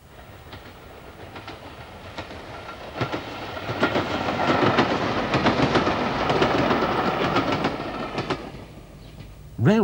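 A train rolls past with repeated clickety-clack beats from the wheels over rail joints, swelling louder mid-way, with faint squeals near the end.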